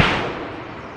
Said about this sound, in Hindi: आवाज़ सुनिए गोलियों की।